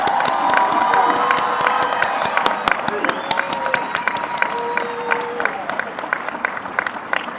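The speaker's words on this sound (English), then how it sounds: "So let's give a round of applause again." Applause and cheering fill the hall at a university mechanical and aerospace engineering graduation ceremony: dense, loud clapping with whoops and shouts from a large crowd, steady throughout, with some voices mixed in.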